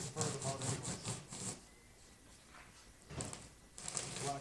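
A hand saw with small teeth rasps through rigid Plastispan foam insulation in quick back-and-forth strokes, pausing for a moment midway before the rhythmic cutting resumes, close and clear.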